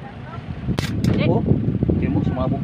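Sharp pops crack out, a car's main electrical fuse bursting twice in quick succession during alternator and wiring troubleshooting, amid people talking close by.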